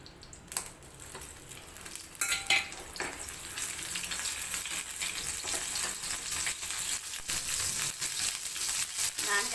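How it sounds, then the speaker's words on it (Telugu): Cleaned dried fish pieces fry in oil, a close crackling sizzle that swells after the first couple of seconds, with a few clattering stirs near the start. "ఆయిల్ వేసుకుని ఇవి శుభ్రం చేసి ఉంచిన చేప ముక్కలు వేసుకుని ఒకసారి ఫ్రై చేసుకుంటే"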